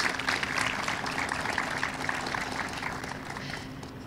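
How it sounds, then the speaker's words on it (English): Guests at a library building closing ceremony get a round of applause, a fairly faint, even patter of many hands clapping that slowly tapers off over a few seconds. "If we can give them a round of applause for coming out, that would be great."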